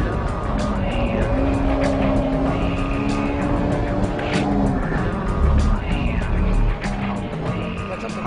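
A Honda Civic EK9 Type R with its B16B engine revs hard at full throttle through corners in third gear, a loud, sustained high-pitched engine howl from inside the car with faint tire squeal.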